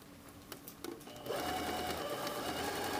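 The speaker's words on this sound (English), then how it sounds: "we're going to stay stitch the collar." A sewing machine stay stitches the edge of a jacket collar facing, starting after a few soft clicks and then running as a steady, close, continuous whir.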